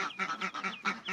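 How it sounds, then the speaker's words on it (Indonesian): Muscovy ducklings peep in a quick, repeated run of high chirps, close and clear with no other sound around them. "anak entok"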